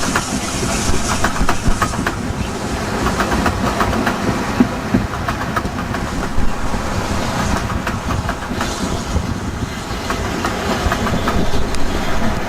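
A heritage train climbs the bank on the West Somerset Railway, a steady rumble with rhythmic wheel and rail clatter, heard throughout at moderate distance.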